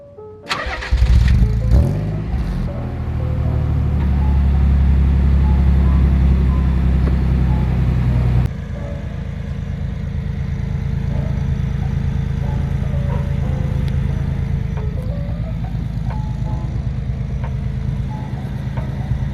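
A car with a turbo exhaust cranks and fires up, revs loudly for several seconds, then drops abruptly into a steady, fairly quiet low idle that runs on alone, close to the microphone.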